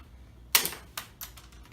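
Small plastic pieces snapped off an Ikea stool with little red tweezers, three sharp clicky snaps, the first loudest, close up and isolated.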